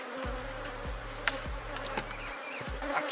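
Honeybees swarm around an open beehive, making a dense, continuous buzz close by. A low, rhythmic hum pulses beneath it, and no one speaks.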